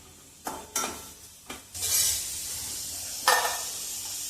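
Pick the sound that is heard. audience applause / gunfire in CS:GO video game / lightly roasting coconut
lightly roasting coconut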